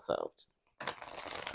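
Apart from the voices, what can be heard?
shuffling oracle cards sideways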